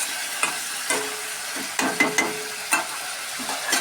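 Chicken meat frying in a pan, a steady sizzle broken by several sharp stirring scrapes and knocks, close and alone.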